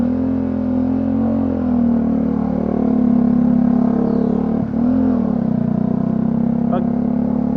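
A Bajaj Dominar 400 motorcycle with a low battery holds a steady, loud engine drone, kept running on the throttle so it won't stall, with a brief dip midway before the engine settles back to a continuous hum.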